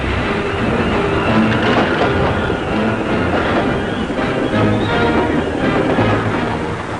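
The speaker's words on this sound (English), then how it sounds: "once again the fast trains thunder across France" A train rumbles steadily along the tracks in France, a dense continuous roar of wheels and rails with no pauses.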